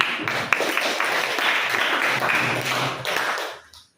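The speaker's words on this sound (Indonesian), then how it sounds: "tepuk tangan dulu untuk Bunga." A small group of students in a classroom claps for a few seconds, brisk and fairly close, then the applause quickly dies away into near silence.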